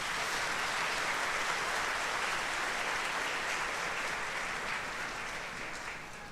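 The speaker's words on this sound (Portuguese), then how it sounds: "que você possa agradecer a Jesus com uma salva de palmas" A church congregation at Holy Thursday Mass breaks into sustained applause, a thick, even wash of many hands clapping that holds steady and then begins to fade toward the end.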